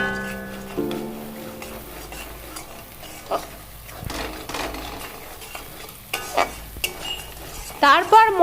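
Spices are stirred in a cooking pan: salt, turmeric, black pepper, Kashmiri chili powder and cumin powder for chole. A spatula scrapes and clinks against the metal over a soft sizzle, with sharper knocks toward the end.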